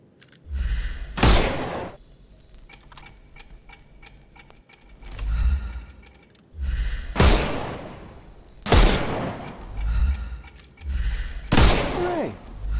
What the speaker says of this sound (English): Shoot off their armor.